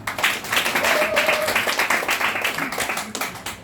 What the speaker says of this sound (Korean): 우리 총장님께 박수 한번 해주시죠